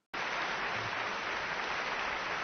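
An audience bursts into applause, starting abruptly and continuing as a dense, steady wash of clapping, fairly faint and distant.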